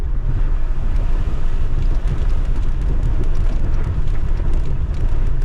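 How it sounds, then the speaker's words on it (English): A 4-wheel-drive vehicle in high range, first gear pushes through a water crossing on a remote Utah canyon trail. Steady loud rushing and churning water mixes with engine rumble and wind buffeting throughout, with no talk. "got a little bit of water crossing here. I'm putting 4-wheel drive"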